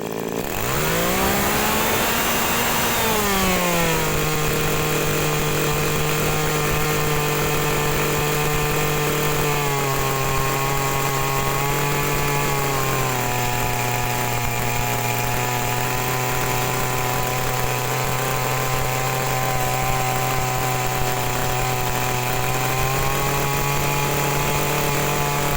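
Small two-stroke engine on an agricultural sprayer revs up to high RPM, then eases back, holding a steady loud whine with slight pitch drops, running alone without talk throughout.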